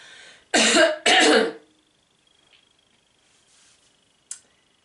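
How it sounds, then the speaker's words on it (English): Two sharp, loud coughs in quick succession, close to the listener, followed by near silence and a faint click. "I just have to cough."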